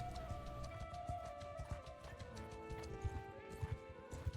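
Horse hooves gallop across open ground in the medieval combat game Mount & Blade II: Bannerlord. Many faint clip-clops overlap in an uneven, rolling rhythm, with a low hum of background game sound underneath.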